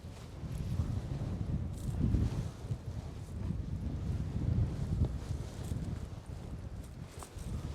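Steady wind buffets the microphone with low rumbling gusts throughout at a paragliding launch site, swelling stronger at moments, with no clear talking.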